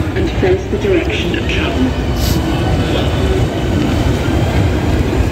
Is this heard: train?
yes